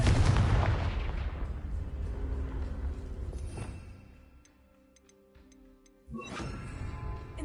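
Confringo fire-blast spell cast in Hogwarts Legacy: a loud burst that decays over a few seconds into faint ticking, then a second sharp blast near the end.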